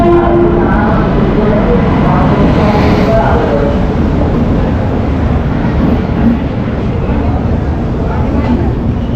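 A Rajya Rani Express passenger train on the Patna to Saharsa route pulls into a station platform, a loud continuous rumble of wheels and carriages with a brief horn-like tone at the start and crowd noise in the background.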